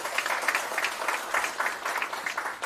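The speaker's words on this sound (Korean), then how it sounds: "큰 박수 부탁드립니다." Audience applause at a workshop on managing a waste landfill dispute in Dangjin, steady moderate clapping from a crowd, a little distant, lasting a few seconds without speech.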